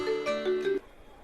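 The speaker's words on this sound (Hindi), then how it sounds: "99 करके कोई फ़ोन था। चलिए बजने दीजिए" A phone rings in a short melodic tone of a few stepped notes lasting under a second, moderately loud, then fades into quiet background.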